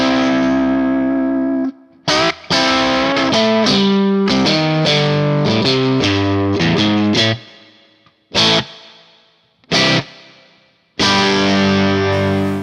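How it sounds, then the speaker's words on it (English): Electric guitar phrases through a Neunaber Immerse Reverberator pedal in spring reverb mode, wet and splashy, notes ringing out in short bursts separated by brief pauses, loud and close. "But here is the spring reverb."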